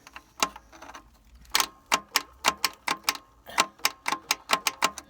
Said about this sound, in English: These starters aren't the best. You know, a lot of times you gotta click them until they start hitting.